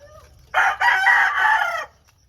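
A rooster, an Edom Dome crossed with a Golden Boy sweater gamecock, crows once, a loud, close cock-a-doodle-doo of about a second and a half over faint background noise.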